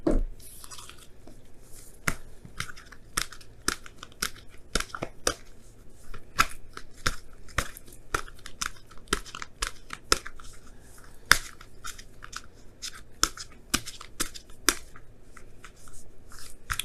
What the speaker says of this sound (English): Now I'm going to pull you guys your wisdom of the oracle cards for this week.